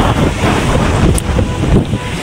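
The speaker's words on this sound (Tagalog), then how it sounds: "Maalon yung dagat oh." Loud, constant roar of wind and rough sea, heavy buffeting against the microphone on a motorcycle ride, with surging waves churning close by.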